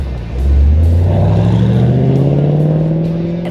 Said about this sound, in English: So we're in the Camaro ZL1.